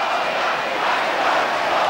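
A large crowd fills a city square during the Romanian revolution as the Ceaușescu regime falls, a continuous distant roar of many voices blending into a steady wash with no distinct words.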